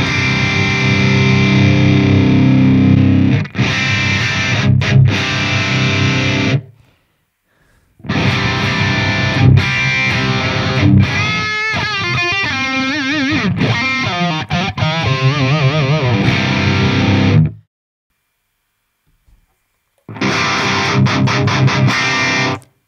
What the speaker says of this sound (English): Let's see what the ribbon mic sounds like on its own.